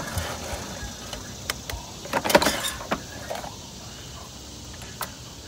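A worn-out shotshell reloading press works a clay pigeon load through pre-crimping, giving a short burst of mechanical grinding and clattering, then sparse clicks and taps in a quiet room, with no speech.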